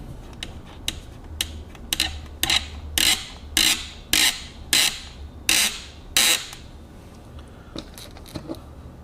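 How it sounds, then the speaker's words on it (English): Screws are driven into the pre-drilled holes of a base during the build of an HM-01 model engine. A close run of about ten sharp ratcheting clicks comes in a steady rhythm, then a few fainter ones follow. "you just have to put the screws in and make sure they hit the holes"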